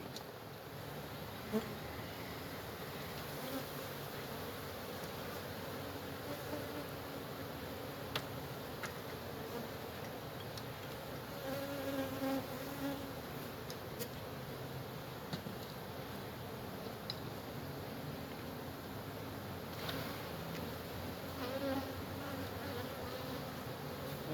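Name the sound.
agitated honey bees buzzing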